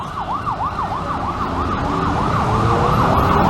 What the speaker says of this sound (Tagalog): May ambulansya oh.